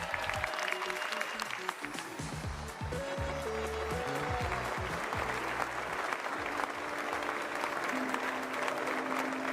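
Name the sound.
clapping after a speaker's sentence at a livestream showcase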